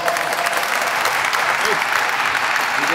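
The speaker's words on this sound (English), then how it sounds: "Congratulations, Luis. Let's give him a round of applause." A crowd at a Hispanic Heritage Month closing ceremony applauds an award winner named Luis, with thick, even clapping from many hands filling the room throughout, a few voices faintly mixed in.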